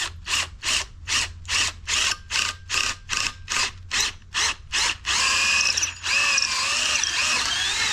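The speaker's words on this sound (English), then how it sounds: "So what we're going to try to do is drill in here." A power drill boring out a rubber upper control arm bush on a Mitsubishi Pajero, cutting in about a dozen short rhythmic bursts, then one long continuous grinding run, close and loud with no talk.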